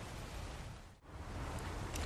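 Steady rainfall in the survival game ARK: Survival Evolved, a broad soft hiss of falling rain with a brief dip around the middle, fairly quiet and continuous with no talking.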